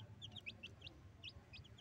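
Soft, high chirping clucks from small rainbow chickens, a quick scattered series of short peeps over a quiet background.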